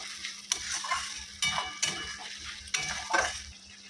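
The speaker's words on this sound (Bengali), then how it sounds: "এবার মশলাটাকে আমি ভালো করে কষিয়ে নেব যতক্ষণ মশলা দিয়ে তেল না ছাড়ছে" Tomato spice masala with turmeric and a pinch of sugar being sautéed in oil in a pan, with rhythmic spatula scrapes and metallic clinks over a crackling sizzle, several strokes in quick succession.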